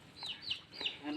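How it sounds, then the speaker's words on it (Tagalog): Chickens clucking at a rural farmyard in the hills of Coron, Palawan, a few short bright calls close by with faint background noise. "kahit paano marami silang manok rito"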